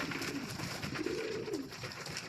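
Racing pigeons coo softly at a loft in Aroroy, Masbate, a low wavering call rising out of a steady wash of background noise, with no voices nearby.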